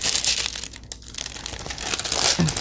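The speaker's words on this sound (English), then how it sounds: "Let me pull this paper out better." Paper is pulled out from a Halloween owl craft with a crisp crinkling and rustling. The crackle runs close and continuous for a couple of seconds.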